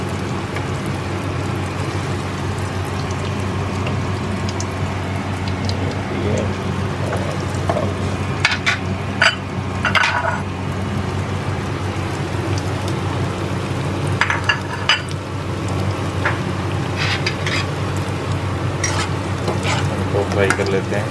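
Bread slices for shahi tukda fry in hot oil with a continuous bubbling sizzle, plus occasional clinks and scrapes of a utensil against the pan; no voice is heard.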